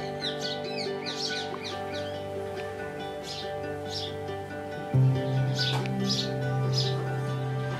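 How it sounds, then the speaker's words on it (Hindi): Birds at sunrise in Kasauli, Himachal Pradesh, chirp and tweet in repeated bright bursts over a steady low hum that grows louder partway through. "बर्ड्स बिल्कुल एक तरह से खुश हो गई थी, उनके चिरपिंग की चहचहाने की आवाज़ आ रही थी।"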